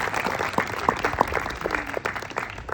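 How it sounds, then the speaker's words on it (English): Audience applause at a dedication ceremony honoring a college-access program, a steady wash of many hands clapping at moderate level with a few sharper nearby claps standing out. "So let's give a round of applause for them."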